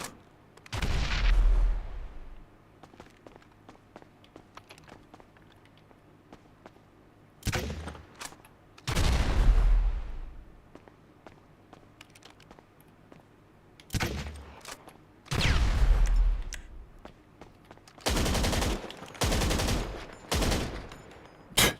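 Several heavy grenade blasts in GTA 5 Online boom out at irregular intervals, each loud burst decaying into a rumble, with quieter gaps between and a rapid cluster of blasts near the end.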